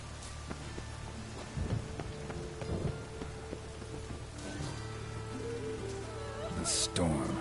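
Stormy weather in The Witcher video game: a soft wash of rain with low rumbling thunder rolls, moderately quiet, accompanied by tonal music and some game effects.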